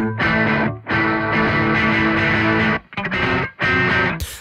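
Loud, saturated electric guitar chords through an Aurora DSP Laney Ironheart amp plugin, held and restruck in several bursts separated by short silent cuts, with no voices.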